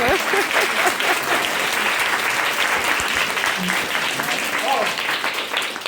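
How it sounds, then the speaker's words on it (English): An audience claps for a child, steady, dense applause filling the whole stretch, with a few voices calling out over it. "Guys, clap him."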